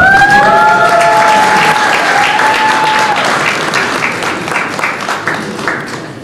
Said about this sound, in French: Mais vous êtes chiche en applaudissement, c'est pas possible.